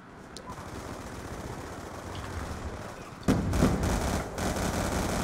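Gunfire in Black Ops 2, faint and distant for the first three seconds, then a louder burst of automatic shots and several separate cracks in the second half.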